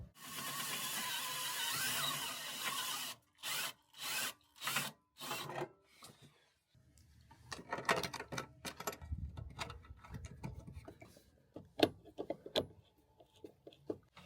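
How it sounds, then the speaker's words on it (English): A power drill whines loudly and steadily while drilling a hole in the back of a generator housing, then runs in short bursts, followed by scraping and clattering of tools against the metal housing. "First things first is to drill a hole in the back of the unit."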